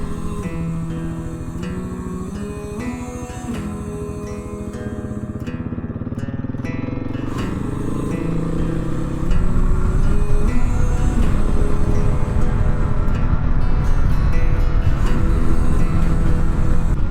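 A motorcycle rides along a gravel forest road in Lithuania. The engine drones steadily up close and rises in pitch and loudness partway through, with no talking.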